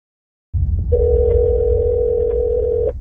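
A phone call tone through a truck's speakerphone begins after a short silence, with one steady sustained tone held over a low hum.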